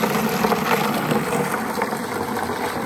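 Water gushes steadily from a garden hose into a big tub set out for livestock in a pasture, a continuous close rushing hiss with no pause.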